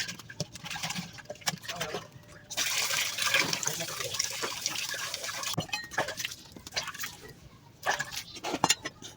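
Fish is washed with water, with close splashing, trickling and dripping as it is rinsed and rubbed by hand, continuing in uneven bursts with short pauses.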